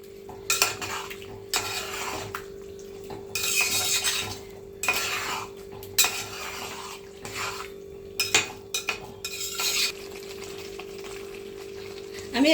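A utensil stirring chili chicken gravy thickened with cornflour water in a pan, repeated scraping and clinking strokes in bursts over a faint steady sizzle, close up with no voices.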